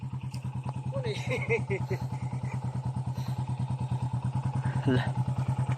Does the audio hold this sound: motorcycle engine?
yes